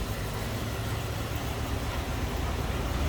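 A 1970 Ford Thunderbird's exhaust rumbles steadily at idle, a low, even drone that holds constant throughout with no other sounds.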